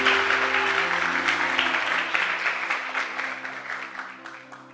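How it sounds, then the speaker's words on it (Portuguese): A church congregation applauds for a birthday, a full burst of clapping from many hands over held musical notes that gradually thins and fades toward the end. "Uma salva de palmas para Lídia."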